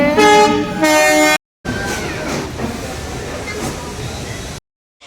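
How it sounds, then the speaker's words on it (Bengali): A loud train horn blasts twice near the start, then the rumble and clatter of a train rolling into a station in Delhi, ending abruptly. "ট্রেন আসছে"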